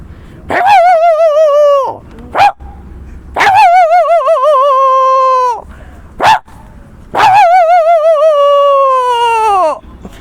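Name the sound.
man imitating male dog barking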